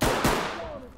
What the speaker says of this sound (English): Who's doing the shooting?